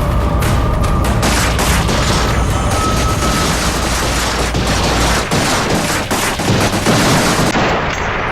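Sustained gunfire in a police encounter shootout, with shots cracking in rapid, continuous volleys and heavy booming bursts filling the whole stretch, loud and close with no talking.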